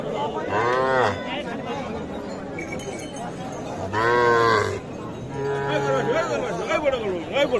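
Young calves and bulls moo loudly and repeatedly at an outdoor cattle market, several drawn-out calls near and far over a bustle of murmuring voices and faint clinks.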